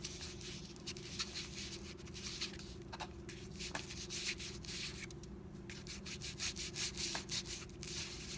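Ink being rubbed onto the edges of a handmade Valentine card, a soft continuous scrubbing close by with faint patter and no talk.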